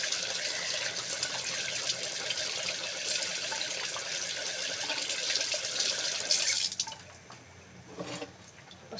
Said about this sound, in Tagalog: hugasan po natin yung ulit yung itlog kasi medyo matigas pa po